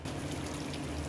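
Water poured into paneer curry masala in a pan, a brief close steady splash with no speech.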